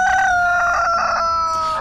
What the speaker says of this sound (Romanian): a început cocoșul să cucurigească